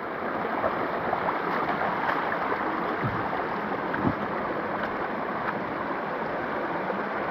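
The Si Tho waterfall pours in a steady, dense roar of rushing water that stays even and continuous throughout, with no voices over it.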